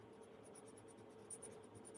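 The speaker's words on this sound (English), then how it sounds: "I am kind of pressing a little more firmly on my pencil" Colored pencil pressed firmly against paper while shading fur on a holiday gift tag, making a steady, close, soft scratchy scraping that runs continuously with no other sound.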